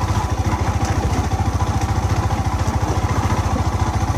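Motorcycle engine running steadily while the bike rides over an old, badly damaged bridge with exposed iron, giving a rapid, even pulsing thrum close by, with no talk.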